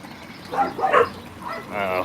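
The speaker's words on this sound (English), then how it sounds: "Neighbors' dogs are out," Neighbors' dogs bark outdoors in a few short bursts, moderately close, mixed with speech-like sound.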